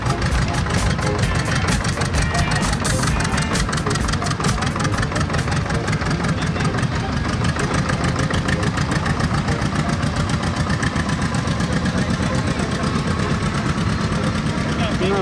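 A vintage low-horsepower tractor engine drags logs in an oldtimer log-pulling contest at Schadehorn, chugging loudly and steadily up close in a fast, even knock while someone talks over it.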